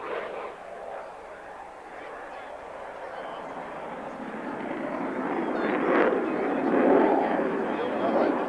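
Navy jet flying a carrier break at a 1992 airshow in Salinas, California, a broad distant jet roar that swells steadily louder toward the end while an announcer talks over it.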